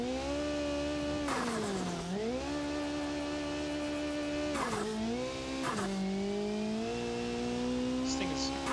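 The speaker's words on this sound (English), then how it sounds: "The turbocharger flutter is louder than the engine." Car engine with turbocharger flutter in the BeamNG.Drive driving game, a buzzy droning tone that rises and dips repeatedly as the throttle changes, with sharp fluttery bursts on lift-off, loud and close.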